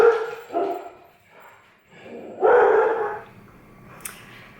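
Dogs bark in frantic, overlapping bursts nearby, loud at first, fading, then flaring again, with a short high yip near the end and no talking.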